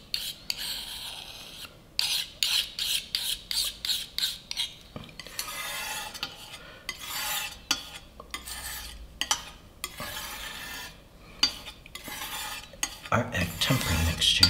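Egg tempera paint for English red being stirred in figure-8 motions, giving soft repeated scraping and rubbing strokes in a steady rhythm, close and fairly quiet, with a few brief pauses.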